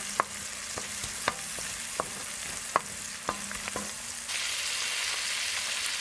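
Tindora being stirred with turmeric and red chili powder in a frying pan, a steady sizzle broken by sharp scrape-and-tap strokes of the spatula at irregular intervals, with a brighter, louder hiss toward the end and no talking.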